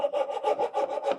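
A hand saw cuts through wood for inlaid dovetails, close and clear, with about eight even back-and-forth strokes in a steady rhythm.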